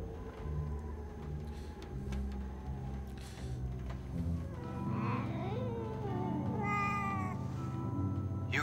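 Cat meows and drawn-out caterwauling in the video game The 11th Hour, several rising and falling wails over a low, droning game soundtrack.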